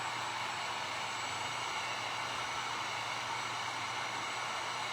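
A small Wagner heat gun runs steadily while drying paint on a fabric flag craft, giving a constant, fairly quiet blowing hiss with a low motor hum underneath, unbroken for the whole stretch and with no talking.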